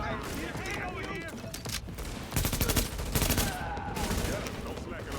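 Rapid automatic weapon gunfire in The Division, several bursts of close, loud shots with a dense stretch in the middle, other voices talking among the shooting.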